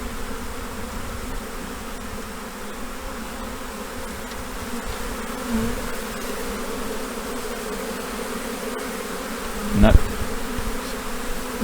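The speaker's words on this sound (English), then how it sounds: "I don't mind knocking these bees" A dense swarm of honey bees hums steadily and close during a transfer into a new hive, the buzzing continuous throughout with a brief knock near the end and a single short spoken word.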